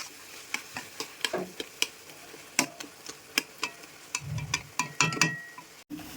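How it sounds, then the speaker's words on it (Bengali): Spiced potol dorma, stuffed pointed gourd, being sautéed in a pan, with repeated sharp clicks and taps of stirring over a light sizzle and a brief louder fry burst near the end, close and without talk. "এটা এখন আমরা এভাবেই কষাবো"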